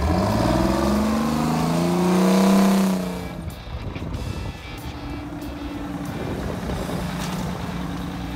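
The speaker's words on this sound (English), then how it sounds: "This motorcycle is made from semi-truck parts." A custom motorcycle built from semi-truck parts rumbles loudly, its engine rising in a deep pitch sweep as it accelerates past, then continuing as a steady lower drone.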